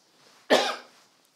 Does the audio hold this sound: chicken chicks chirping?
no